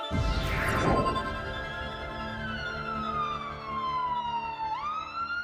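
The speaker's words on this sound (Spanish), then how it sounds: "Cuando una ambulancia se acerca a nosotros, la longitud de onda de la sirena se comprime." An ambulance siren wails nearby, its pitch sliding steadily downward as the vehicle passes, then jumping back up before fading slightly.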